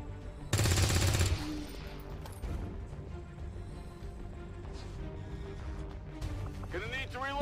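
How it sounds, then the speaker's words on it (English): Automatic gunfire erupts in a loud, dense burst as a zombie is shot in XCOM 2, followed by quieter game sounds and a voice talking. "time to shoot that zombie."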